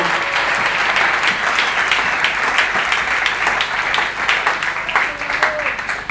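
A church congregation applauds steadily throughout, dense clapping close and loud, with a few voices rising over it.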